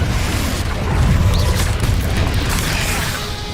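Confringo blasting spell cast in a Harry Potter wizard game, a loud, close rumbling boom with crashing debris that swells and then fades into a sustained roar.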